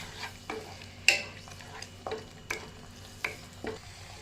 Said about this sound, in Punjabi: ਤੜਕਾ ਸਾਡਾ ਭੁੱਜ ਗਿਆ